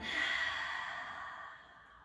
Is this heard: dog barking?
no